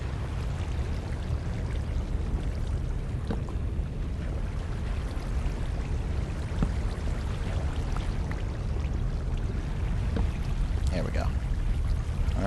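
Flowing water in the Minecraft Tekkit modpack gives a steady, continuous rushing and trickling wash that holds at an even level from start to finish, with faint scattered clicks on top.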